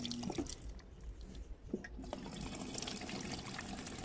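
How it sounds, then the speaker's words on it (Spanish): Steady rushing water filling a Samsung washer-dryer, with a soft trickling texture, continuous throughout, moderately close with some faint clicks and thuds in the background. "Y se supone que ya está cayendo el agua."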